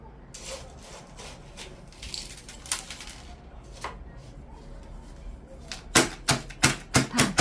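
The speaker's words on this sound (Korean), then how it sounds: "흙 고루고루 들어가게 조금 털어주고" A flower pot of potting soil for a succulent repotting is tapped to settle the soil, first scattered light scraping and taps, then six crisp evenly spaced knocks in a steady rhythm near the end.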